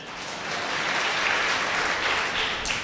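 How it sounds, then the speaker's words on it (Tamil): Applause from an audience at a Tamil comedy debate stage show, a steady crackling clapping that holds for about three seconds with no talking over it. "அவருக்கு ஒரு கைத்தட்டுங்க."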